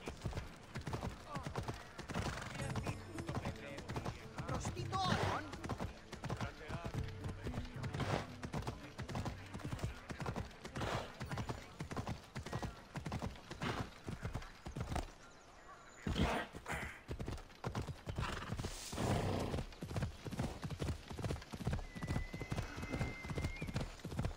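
A horse clip-clops steadily through Assassin's Creed Odyssey gameplay, rapid rhythmic hoof beats close by that continue almost without pause, dipping briefly midway, while a person occasionally talks over it.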